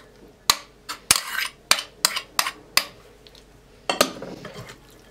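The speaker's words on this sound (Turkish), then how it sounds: "Tamamen birbirine yemesi için iyice karıştırıyorum." A spoon stirs a filling of torn pastırma and grated kaşar cheese in a bowl. About seven sharp, close clinks and scrapes come at an irregular pace, with no talking.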